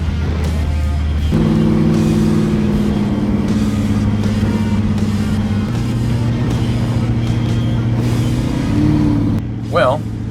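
A 1969 Chevrolet Chevelle with a different exhaust is driven along, its low engine drone heard from inside the car. The drone steps up and down through gear changes and holds loud and steady the whole way.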